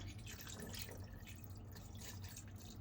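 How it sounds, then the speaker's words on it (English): Marinade drips and trickles steadily over short ribs, a soft wet pouring sound with a low hum in the background, no voices. "Now pour in the rest of the marinade."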